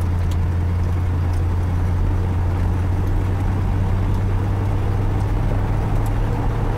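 A 1975 Chevrolet Corvette C3 convertible driving over a rough, bumpy road, with a steady low engine drone and rumbling road noise heard from inside, continuous and fairly loud.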